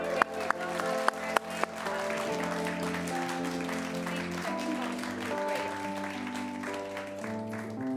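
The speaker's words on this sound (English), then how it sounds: "Please give a big round of applause" Steady applause from a live late-night show audience in Portland fills the clip, with music playing underneath and a voice thanking the crowd over the clapping.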